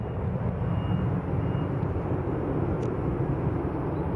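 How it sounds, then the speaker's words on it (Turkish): A passenger airliner on the Tehran–Istanbul route touches down on the runway, a steady, loud, low engine roar with rumble that holds throughout. "Tahran-İstanbul seferini yapan son yolcu uçağı piste tekerlek koydu."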